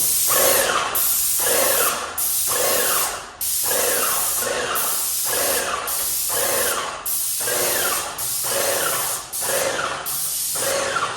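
An airless paint sprayer spraying paint in about ten loud, close bursts of hissing spray, each ending in a short pause as the trigger is released and pulled again.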